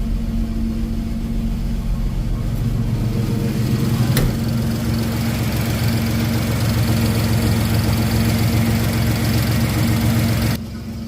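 A 1954 GMC COE truck engine idling just after starting, a steady low mechanical drone with a constant tonal hum and one brief click midway, running evenly for about ten seconds before the level drops slightly.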